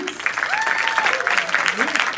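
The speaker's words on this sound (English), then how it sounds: "Let's give another round of applause for our films." Audience applause after a film screening at a winter film festival, dense and fairly close, with a few voices calling out over the continuous clapping.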